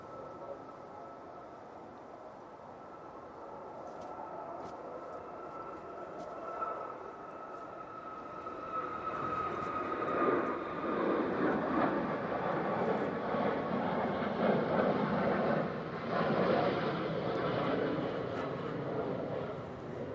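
A Malta Air airliner rolling for takeoff, its distant jet engine roar building from faint to a broad, sustained rumble over about twenty seconds, with light wind and background noise.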